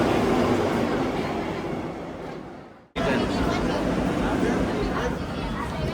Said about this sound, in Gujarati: ટ્રેન પ્લેટફોર્મ નંબર 1 ઉપર આવી ગઈ છે